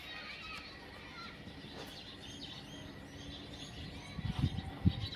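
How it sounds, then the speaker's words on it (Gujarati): Sparrows chirping from a tree on a cloudy evening beside a groundnut field, faint scattered high chirps at a distance, with brief low thumps and handling noise near the end. "આ બાજુ ચકલા બોલે હે."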